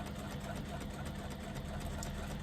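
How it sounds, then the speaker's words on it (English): A sewing machine stitches a fabric strap with a steady, even mechanical whir and rapid needle rhythm, continuous and moderately quiet throughout. "I am stitching on the wrong side of the strap"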